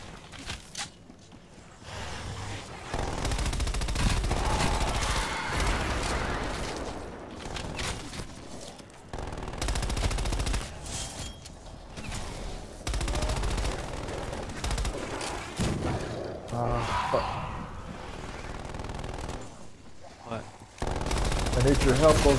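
A sentry turret in a video game fires in rapid automatic bursts, loud and repeated, with shouting voices and scuffling movement between the volleys.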